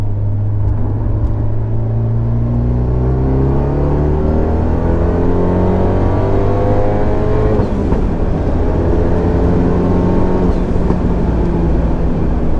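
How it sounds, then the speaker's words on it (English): A Fiat 124 Spider accelerates hard on a throttle roll-on, its engine droning loud and close from inside the car with pitch climbing steadily through the gears, briefly dipping at a shift before rising again. "Do a little on throttle roll-on in like a split second."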